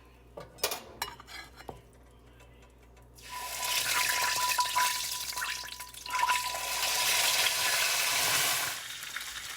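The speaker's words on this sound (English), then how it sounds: "The chicken is frying. I'm sure you can hear it." A few sharp clinks of cookware, then a loud, steady sizzle of chicken legs frying in butter in a hot pan that continues to the end.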